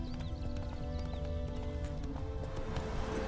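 Roach, a horse in The Witcher 3, trots with steady, close clip-clop hoofbeats over a continuous low ambient rumble, with a brief whinny mixed in.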